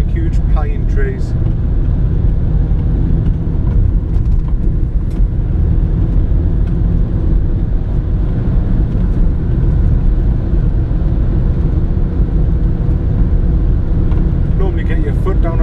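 A car drives along a country road near Blanchland and Hexham at around sixty miles an hour, giving a steady, close engine and road rumble throughout, with a voice talking over it.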